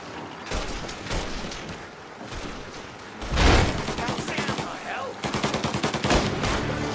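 Gunfire in the Mafia: Definitive Edition video game, with bursts of rapid automatic shots and single heavy reports in a tense firefight, loud and dense, with brief voices mixed in.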